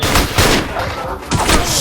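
Rapid bursts of video game gunfire crackle loudly, several quick volleys close together with muffled thumps between them.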